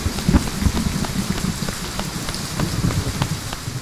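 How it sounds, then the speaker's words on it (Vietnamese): Steady rain pours down in an animated cartoon scene, a dense, even patter of drops hitting surfaces with low rumbling underneath, heard alone without voices. "À, mưa rồi, chạy nhanh về nhà"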